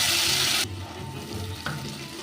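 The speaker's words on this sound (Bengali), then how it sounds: "এবার এই তেলে দিয়ে দেব এই যে পেঁয়াজ কালো জিরে রসুন আর কাঁচা লঙ্কা বাটা" A paste of onion, nigella, garlic and green chili hits hot oil for a rohu fish curry with green tomato. A loud burst of hissing sizzle fades within a second to a softer, steady bubbling fry with faint stirring.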